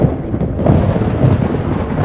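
Thunder from a lightning storm rumbles loud and continuous, a deep rolling roar with a faint hiss of rain.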